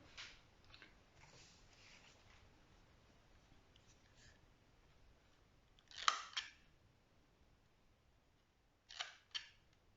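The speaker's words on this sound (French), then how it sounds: "je vais découper les angles" Scissors trim the corners of a card for a craft project, giving a few faint crisp snips and rustles in a quiet room, with two clearer cuts near the end.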